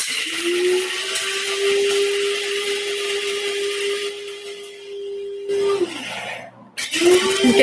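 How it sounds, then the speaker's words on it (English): A coffee grinder grinding coffee beans at home runs as a steady, loud motor whine for about six seconds, then winds down and stops briefly before starting again near the end. "In case you're wondering kung ano yung sound na yun, yun ay yung coffee grinder ni Don."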